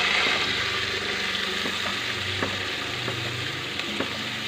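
Onion, ginger and garlic paste sizzles steadily in a hot pan for chole, a close continuous crackle with a few soft scraping stirs, no voices.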